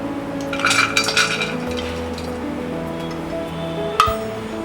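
Dry coconut roasting in a pan over medium flame, with metallic clinks and scraping of a utensil against the pan, a cluster of taps early on and a sharper knock near the end.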